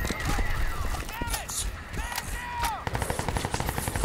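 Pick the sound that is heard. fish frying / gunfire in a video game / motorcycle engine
gunfire in a video game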